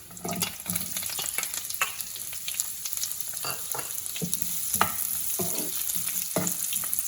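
Onions and curry leaves fry in oil for a chicken liver dish, giving a busy continuous sizzle with frequent crackles and pops and scraping stirs throughout, close and without any voices.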